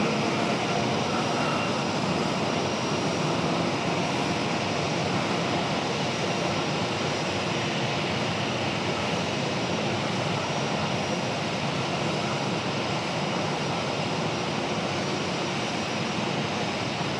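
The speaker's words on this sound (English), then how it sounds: "We've got a very loud A319" An Airbus A319 jet airliner at Raleigh-Durham airport produces a steady, loud, continuous roar of engines, heard close and even throughout.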